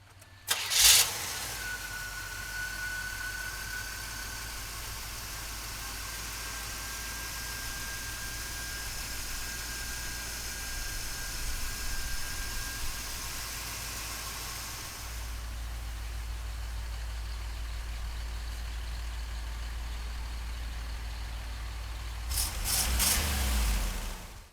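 A 1977 Chevrolet Corvette engine cranks and catches with a sharp start, then settles into a steady, rumbling idle for about twenty seconds, its tone shifting slightly partway through, before a brief blip near the end, close and loud.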